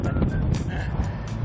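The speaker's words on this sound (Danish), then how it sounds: "og så blæser det godt." Wind blowing outdoors in Mols Bjerge national park in Denmark, a steady loud rumble and buffeting against the microphone, with faint gusty hiss rising and falling, no voices.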